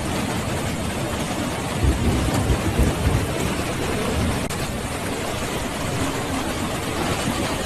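Steady torrential rain roars without a break in Honshu, Japan, with low rumbling swells that suggest distant thunder, dense and loud throughout.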